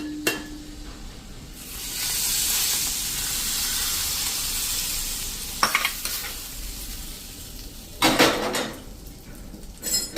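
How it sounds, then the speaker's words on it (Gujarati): Hot oil tempered with Kashmiri red chilli is poured over spinach and moong dal, erupting into a loud rushing sizzle that swells and then fades, followed by a few sharp clinks and scrapes of a utensil in the pan. "1 ટીસ્પૂન જેવું આપણે કાશ્મીરી લાલ મરચું નાખી દેશું, અને એને આપણે આ એકદમ સરસ તેલમાં મિક્સ કરી અને આ વઘારને આપણે આ શાકમાં જ રેડી દેશું"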